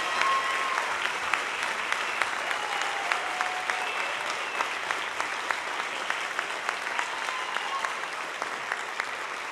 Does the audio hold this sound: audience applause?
yes